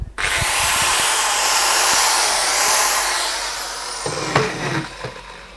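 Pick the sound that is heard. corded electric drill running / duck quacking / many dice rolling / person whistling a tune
corded electric drill running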